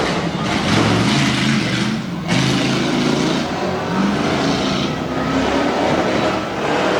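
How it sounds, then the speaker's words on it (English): A stock tough truck at a Bloomsburg, Pennsylvania dirt track event pulls away from the starting line, its engine revving loudly and continuously with a brief break in the roar. "Adam Brobst just driving away in his truck"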